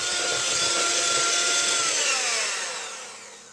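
An electric hand mixer beats a chocolate whip mixture in a home kitchen, giving a loud, steady motor whir with a faint wobble in pitch that fades out toward the end, no voices heard.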